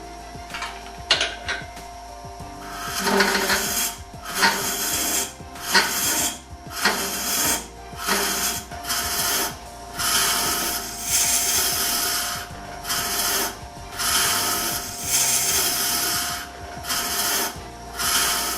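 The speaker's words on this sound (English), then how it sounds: "We will continue to hollow, but make regular stops to clear shavings and check our progress." Wood is hollowed on a spinning lathe with a Robert Sorby Sovereign Ultima tool, giving close, rasping scraping cuts in uneven bursts with short pauses and a steady motor hum beneath.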